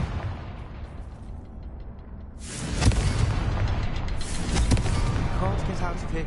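A Confringo blasting spell explodes in the video game Hogwarts Legacy, a loud booming burst rising from quieter game ambience, with rumbling debris and further blasts and bangs following under game music.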